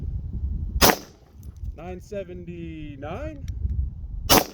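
A suppressed Hi-Point pistol firing 115 grain ammunition lets out two sharp, close shots several seconds apart. Someone speaks briefly between them.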